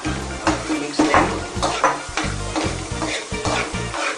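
Two big onions stirred in butter and oil in a pan for street-style pav bhaji, a loud close sizzle with rhythmic scraping strokes of a spoon against the pan about twice a second.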